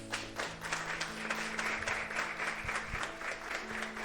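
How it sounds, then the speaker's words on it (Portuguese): Applause fills a church service, a dense, steady patter of many hands clapping at moderate distance for several seconds, with a low organ or keyboard tone sustained underneath. "Jesus merece uma salva de palmas"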